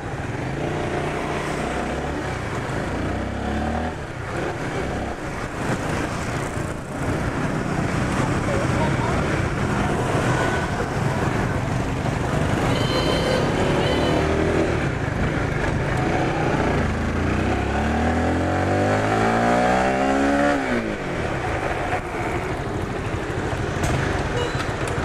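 Honda Winner 150 motorcycle with two-channel ABS braking hard, a steady engine and wind roar with a rising then falling whine as it slows, under ongoing talk.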